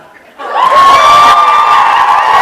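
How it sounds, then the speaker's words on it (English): Fan convention crowd in a hall erupts into loud cheering and whooping, a sudden swell of many voices shouting together that stays strong and sustained, with a few higher yells riding on top. "Why loud cheer?"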